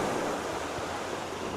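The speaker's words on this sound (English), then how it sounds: "I'll try not to talk too loud because I do feel like I'm talking over the waves." Sea waves wash around Torquay Pier as a steady, moderately faint roar of surf, with no single crash standing out.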